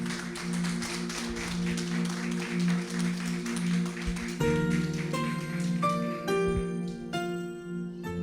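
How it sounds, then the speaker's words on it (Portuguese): A church congregation gives joyful applause to welcome a speaker, steady clapping over a sustained organ or keyboard tone that shifts into higher held notes as the clapping thins toward the end. "Receba o irmão Igor com palmas bem alegres"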